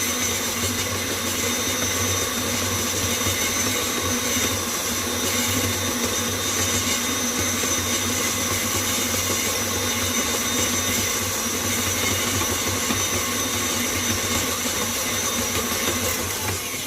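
A stand mixer runs on high as it beats tortilla dough, holding a steady, loud motor whir with even texture throughout and no talk over it.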